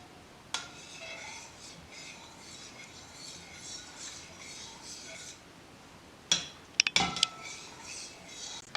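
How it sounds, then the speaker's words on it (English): Butter mixture stirred in a bowl for varenyky dough, a soft steady scraping and rubbing with a few sharp clinks of utensil against the bowl near the end, close and quiet, no talking. "Place those into the bowl and give the mixture a mix until the butter has dissolved."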